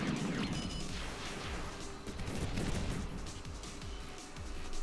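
Aircraft pour barrage gunfire onto an aerodrome in the flight combat game Sky Rogue, a dense run of rapid cracks and thuds over a continuous roar.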